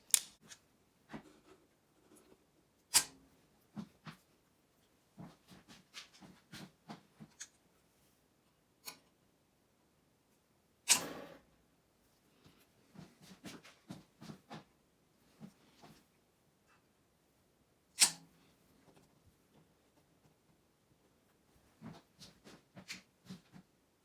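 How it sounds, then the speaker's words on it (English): Excess wire is snipped off Peco model railway overhead catenary. Quiet, sharp clipping snaps come singly and in small clusters, spread unevenly across a mostly silent stretch. "now the last step to complete is just trim off these long pieces of excess"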